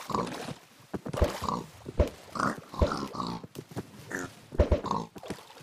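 Pig oinks and grunts in Minecraft come in short bursts, mid-distance and moderately loud, over a light game background.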